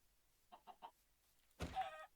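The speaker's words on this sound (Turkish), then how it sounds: "Ya tavuk." Minecraft chicken clucking, three quick soft clucks followed by a longer, louder squawk, faint against a quiet background.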